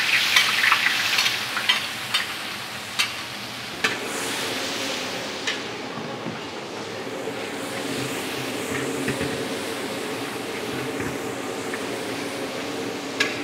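Chopped garlic and shallots sizzle steadily in a hot pan while a spatula scrapes and taps the metal at the start, then settles into an even, close frying hiss.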